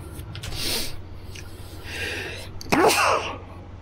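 A person sneezes twice in quick succession, close and fairly loud, with a softer breathy build-up before each burst.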